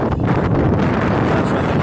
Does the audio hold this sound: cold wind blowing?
yes